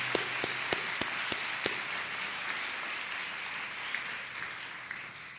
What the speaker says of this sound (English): perhaps a round of applause for our performers again